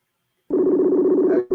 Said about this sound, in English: hear the phone ringing